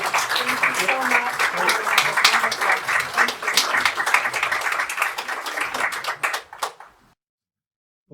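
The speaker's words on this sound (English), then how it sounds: "please give her a round of applause" Audience at a live havening and hypnosis demonstration applauds a participant, a dense burst of near, lively clapping that fades out and stops toward the end.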